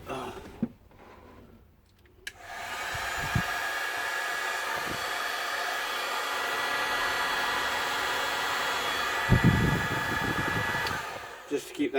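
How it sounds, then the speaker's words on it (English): A heat gun blasts a steady, close airy roar while shrinking heat shrink tubing over wires during a camper van seat heater install, starting after a brief quiet moment and running continuously with a few small handling clicks. "Get the heat gun."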